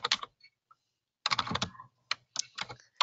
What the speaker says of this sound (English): So as she's typing that